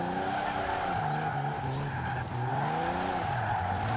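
A small, short-wheelbase Toyota slides in Forza Horizon 4 with its engine floored in third gear. Tires squeal as the motor howls steadily below redline, loud and close, with no speech.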